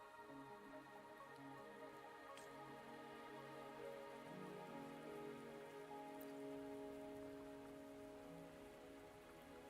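In the video game Wuthering Waves, soft rain patters evenly in the background beneath held musical tones, with no speech.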